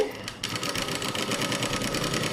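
A sewing machine stitches folded fabric in a tailoring class, starting after a short pause and running in a fast, steady, close mechanical whir, with a voice speaking faintly beneath.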